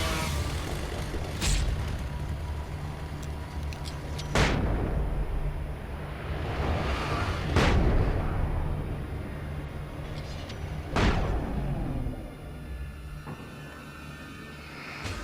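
Flashbang grenades going off in the game Alan Wake, four loud sharp blasts spaced a few seconds apart over a steady rumbling background.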